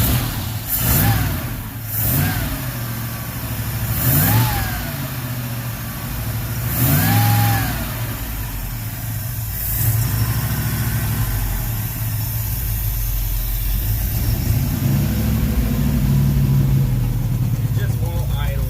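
Engine of an old Ford Ranchero running rough and struggling to idle, with uneven surging and dipping revs that keep threatening to stall, steady and close throughout.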